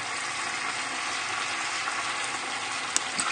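Stock poured into a pan of chorizo, tomato and chicken rice, setting off a steady loud sizzle and bubbling that fills the whole stretch, close up, with a faint clink near the end.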